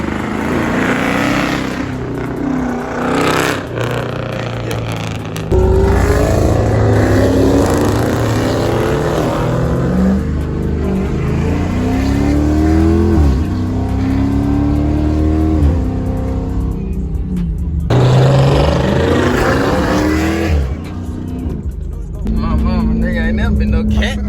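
A Dodge Scat Pack with a new exhaust revs loudly and repeatedly up close. Its deep engine note rises and falls in long sweeps with brief drops between pulls, and voices are heard faintly underneath.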